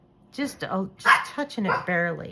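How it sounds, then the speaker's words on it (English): Dogs bark indoors in a few sharp, close bursts, with yips mixed in, while a person talks over them. "I'm sorry about the dogs."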